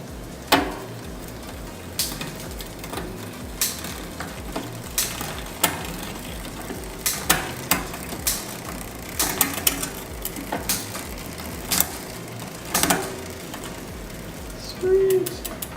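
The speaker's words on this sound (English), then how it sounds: "We're gonna shift these gears here real quick." A bicycle derailleur clicks through the gears over and over in a light, ratcheting tick, the freewheel whirring softly under the repeated shifts.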